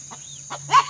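Backyard chickens in a coop in the woods give a few short clucks and a louder final squawk, close by, over a steady background hum.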